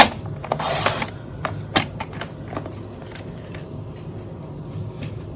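Cutting a sheet of patterned paper down to 8 inches for a waterfall folio album: a close crisp slicing burst followed by several short clicks and snips that fade into a low, quiet room hum.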